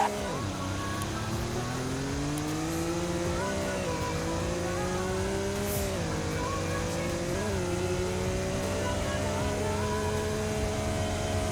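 A retro car driven flat out with traction control switched off, its engine roaring loud and close as revs climb steadily through several gear changes, with no one talking.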